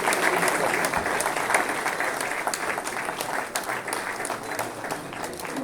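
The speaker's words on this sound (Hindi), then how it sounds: "कृपया तालियां बजती रहनी चाहिए।" Audience applause at a formal welcome ceremony for a deputy chief minister, sustained clapping from a crowd with sharp individual claps standing out, fairly loud and continuing steadily throughout.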